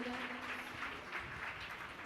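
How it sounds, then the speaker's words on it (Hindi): An audience applauds during a Jain religious discourse, a steady wash of clapping from a hall crowd held evenly at moderate level through the short stretch. "एक बार जोरदार तालियां बजाएं।"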